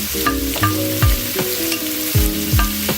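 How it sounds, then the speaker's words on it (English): A large batch of curry coconut shrimp sautés in a pan, a spatula scraping and tossing in quick uneven strokes over a constant loud sizzle, close by and with no voices. "So I'm just going to saute."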